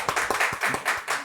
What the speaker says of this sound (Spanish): una gran bienvenida al general Edwin Donaire para que envíe un fuerte aplauso.